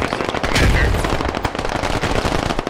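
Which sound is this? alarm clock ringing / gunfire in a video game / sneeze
gunfire in a video game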